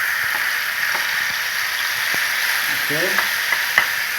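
Marinated beef fries in butter in a pan, a continuous bright sizzle and crackle with a few soft clinks of stirring; a voice speaks briefly over it.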